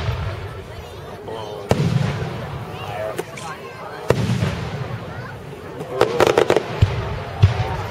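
Fireworks at an outdoor show in Richmond in 2010, a series of booming bursts and sharp crackling pops at a distance, with people chatting and reacting throughout.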